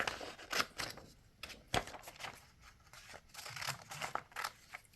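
Scissors snip through a printed paper picture of a lizard, a series of sharp, close cuts in an irregular rhythm with short pauses between strokes, no talking.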